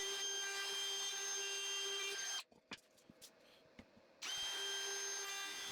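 Power router cutting a 1/8 inch roundover on a hardwood cutting board, a loud, steady high-pitched whine that drops out for about two seconds of light knocks and handling, then spins back up.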